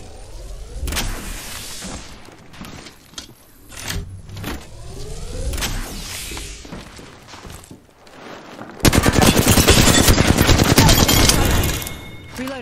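Rapid video-game gunfire in a squad battle-royale match: scattered shots and impacts early, then a dense, loud sustained burst of automatic fire near the end, with no talk in the clip.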